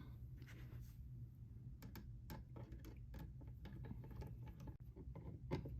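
Screws driven into a Kasa KP200 in-wall smart plug outlet, a faint close series of small clicking, ratcheting turns that come in quick irregular bursts.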